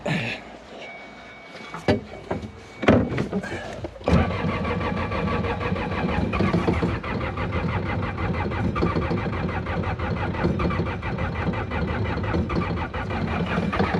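A cold diesel ATV engine with glow plugs, sitting unused for over a month, cranks in a few uneven bursts, then catches and settles into a steady, loud, rattling idle. Voices talk briefly early on.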